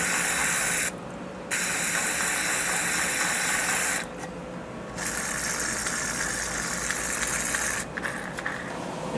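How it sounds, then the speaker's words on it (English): Brake cleaner sprayed from an aerosol can onto the bolts inside a sliding balcony door roller, a loud steady hiss in several long bursts with brief pauses between them. "we'll use the brake cleaner to clean the bolts inside the roller"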